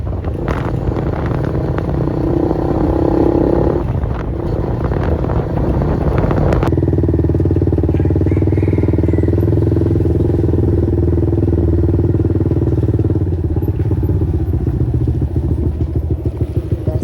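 A motorcycle rides along with a steady, loud engine drone and some clattering rattles, a louder rough patch early on before settling into an even rumble.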